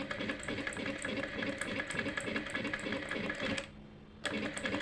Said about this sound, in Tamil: இனி இது அப்படியே தைக்க வேண்டியதான்.